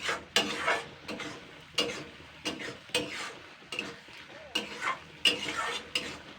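A bean dish stirred in a pan with a metal utensil, giving a steady series of scraping, clattering strokes roughly every half second over a faint sizzle, close and fairly quiet.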